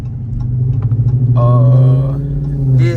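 Loud, deep exhaust rumble from a Chrysler 300 with the resonator and mufflers removed idles steadily up close, rising in a couple of short revs.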